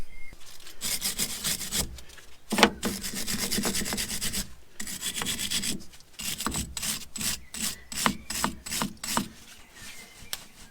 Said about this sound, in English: Just using a scotch pad here to get into the threads.